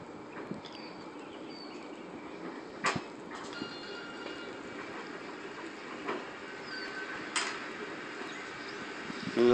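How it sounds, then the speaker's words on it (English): Mountain ride train rolling down its track, a steady rumbling roar with occasional clacks and squeaks, continuous and fairly close. "In about 3 minutes from now, the train will level off as it goes down the mountain."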